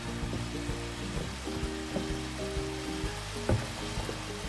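Finely chopped broccoli sizzles in a frying pan with a faint, steady crackle and scattered small pops, heard alone without talk.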